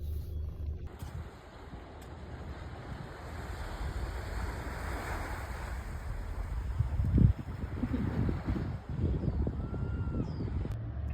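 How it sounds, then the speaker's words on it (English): Ocean waves washing onto a beach, a steady broad roar of surf with wind buffeting the microphone, plus a louder splash or gust midway. "we made it to the beautiful ocean"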